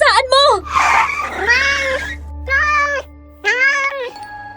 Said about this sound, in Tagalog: Gray, may itim na pusa.